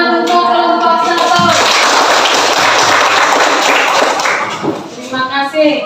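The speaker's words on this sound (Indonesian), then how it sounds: "Tepuk tangan untuk kelompok" Classroom audience at a teacher-training session claps for group 1 in a burst of brisk, close applause lasting about three seconds, with speech just before and after.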